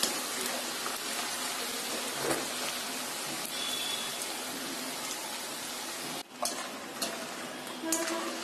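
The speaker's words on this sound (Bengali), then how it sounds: "এখন একটু নেড়ে চেড়ে দিচ্ছি, গোল্ডেন ব্রাউন কালার করে ভেজে নিতে হবে।" Semolina nimki fry in oil over a medium flame, a steady crackling sizzle with occasional stirring scrapes and a few sharp clinks near the end, with no voices.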